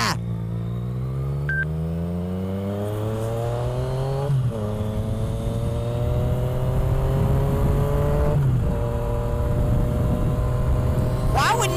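Engine of a motorcycle ridden down a street, steadily loud and close, its pitch climbing through each gear then dropping at every shift, three or four times in a row under continuous road and wind roar.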